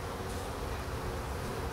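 Honey bees buzzing on a hive frame during an early spring inspection, a continuous close droning hum with no pauses, steady and moderately loud.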